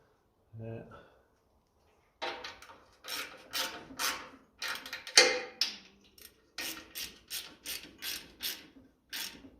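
A bolt on the registration plate of a 1954 Ferguson TEF 20 tractor is tightened with a hand tool, giving a run of rhythmic metallic ratcheting strokes, close and distinct, after a brief low sound at the start.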